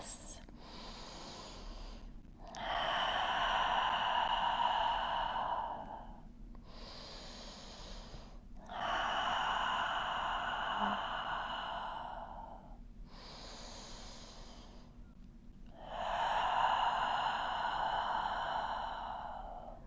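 Slow, deep breaths during a seated forward-fold stretch: three long, airy exhalations several seconds each, separated by quiet pauses, close and steady with a soft hum underneath.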